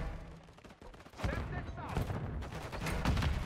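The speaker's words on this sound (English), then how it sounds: "they got a sentry gun down to watch out" A sentry gun fires in Modern Warfare 3 during a Hardpoint match, with rapid bursts of automatic gunfire that stay loud and dense through most of the clip, mixed with game effects and a player talking.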